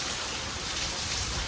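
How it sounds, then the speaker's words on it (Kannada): Heavy rain pours outdoors in Belagavi, a dense, loud, unbroken hiss of falling water filling the whole short stretch. "ಸಿಕ್ಕಾಪಟ್ಟಿ ಮಳೆ ಬೆಳಗಾಯ್ತು."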